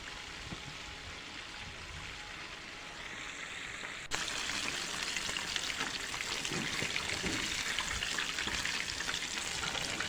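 Homemade KFC-style crispy chicken pieces deep-frying in hot oil, a steady dense sizzle that swells louder partway through and then holds constant, with no voices over it.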